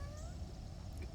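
A pet cat meows softly a few times while sitting at the front of a kayak, the faint cries drifting over a low rumble of water and wind.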